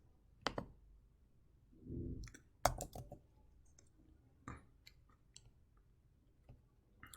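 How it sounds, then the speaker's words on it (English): A computer mouse clicks a handful of times at irregular intervals in a quiet room. The clicks are faint, sharp and close, with a soft rustle in between. "So we'll click on all filters."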